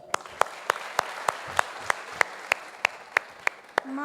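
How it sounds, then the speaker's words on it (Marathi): A single person claps in a slow steady rhythm, about thirteen evenly spaced sharp claps at moderate distance, over faint background hiss and a brief voice at the very end. "एकदा पहिले जोरदार टाळ्या वाज."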